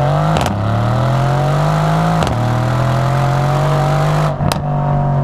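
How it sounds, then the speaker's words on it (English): A Mercedes-Benz C63 S AMG Coupe's V8 engine revs loudly and close up, its steady roar swelling and dipping in a few distinct throttle blips over about five seconds. "it still retains a brutish V8 and an engine that sounds like this."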